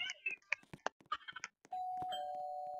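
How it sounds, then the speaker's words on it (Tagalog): A doorbell rings at a house door, one sustained electronic tone holding steady for over a second after a burst of nearby talking and shuffling. "Doorbell nga lang ako."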